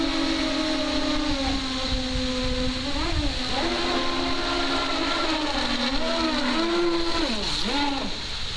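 An RC race boat with twin brushless outrunner motors running at full throttle, giving a loud, continuous high-pitched whine whose pitch dips and rises as the boat speeds and turns.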